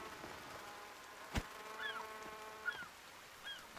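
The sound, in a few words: seagulls in the video game The Forest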